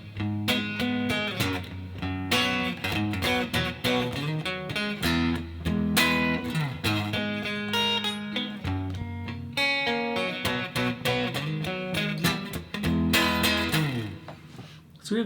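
Electric guitar playing verse 2 of a song, a steady lilting three-beat pattern of plucked chords and single notes, close and clear, continuous throughout with no talking.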